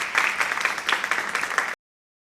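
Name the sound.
audience applause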